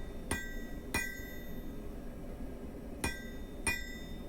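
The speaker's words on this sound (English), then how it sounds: "again we lift the rear end of the steel and double the angle up with the hammer" Four sharp metallic hammer blows ring out on hot steel being forged into a taper, two close together, a pause, then two more, each leaving a bright ringing tone over a low background roar.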